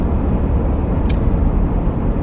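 Steady low road rumble and engine drone fill the cabin of a moving car on a sunny day, an even, unbroken noise with a faint brief click partway through.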